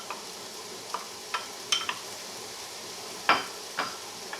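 Peppers dropped into a frying pan with browned onions, scattered short crackles and pops from the hot pan over a quiet background, with a few sharper clicks of stirring or utensils against the pan.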